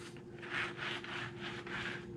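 A clutch cable slides back and forth inside its housing, making quiet, rhythmic rubbing strokes heard close up with no talking.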